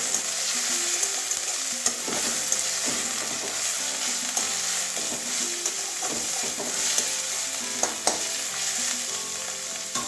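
Onions and green chillies fry in a pan with a continuous crackling sizzle, close and even, with occasional soft knocks of a spatula stirring through it.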